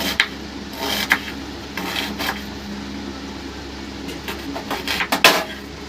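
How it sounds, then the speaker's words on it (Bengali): A knife slices an onion into thick pieces on a board during home cooking, giving a series of irregular close chops and scraping taps. "এইভাবে পেঁয়াজটাকে কেটে নেব আমি।"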